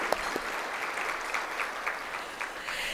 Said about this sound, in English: we can give John a round of applause